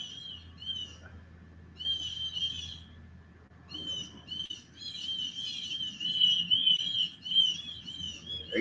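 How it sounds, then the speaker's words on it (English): Hatchling birds in a nest overhead call in bursts of high, thin chirping, repeated and growing busier toward the end, above a low outdoor hum. "I know there's some babies up there, whatever kind of bird it is."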